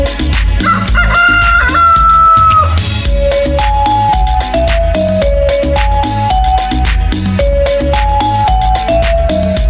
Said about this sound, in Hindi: मुझे मुर्गी ने जगाया, बोला कुकड़ू कुकू